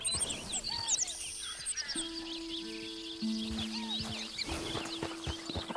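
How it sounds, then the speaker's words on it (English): Many birds chirp and trill at once in a busy outdoor chorus in Red Dead Redemption 2, with a few sustained tonal calls and clucking notes mixed in, steady and moderately loud. "It sounds like there's 20 birds in these trees"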